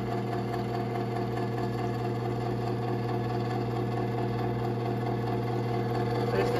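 A Genie Pro screw-drive CM7600IC/A garage door opener runs with a steady, loud mechanical whir and motor hum that holds evenly throughout, with no talk over it.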